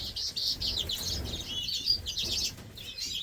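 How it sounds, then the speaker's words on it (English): Small birds chirp and tweet in an outdoor aviary, with dense, overlapping high-pitched calls at close range filling the whole stretch and no talking. "Here in David's Birdroom, the outdoor aviary"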